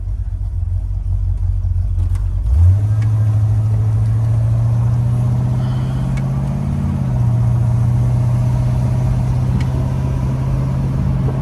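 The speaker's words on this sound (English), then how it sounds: "You guys can hear me blipping the throttle a little bit." A 1972 Oldsmobile Cutlass engine heard from inside while driving, a loud, steady low drone that rises in pitch as the throttle is blipped, then holds a constant hum with a slight swell midway, with no talking.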